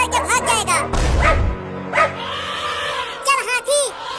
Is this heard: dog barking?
yes